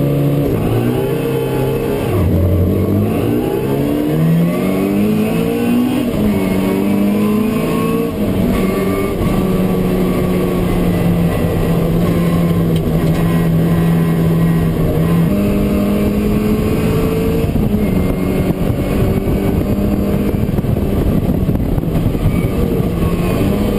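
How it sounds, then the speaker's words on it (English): Race car engines roar steadily and loudly through a pre-1966 race at Lydden circuit, their pitch rising and falling with continuous revving and gear changes. "we're now on the first of the pre-66 races, and he's second on the grid to Anna Greenall's Falcon."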